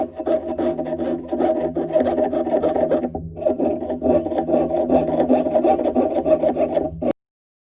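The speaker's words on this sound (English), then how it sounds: "I'm going to saw it just a little bit more to fix it up." A fine-bladed jeweler's saw cuts with quick, rasping back-and-forth strokes, close and steady, pausing briefly once before resuming and then stopping abruptly.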